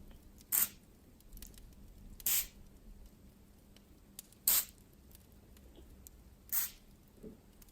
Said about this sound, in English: I'll just spray it around you.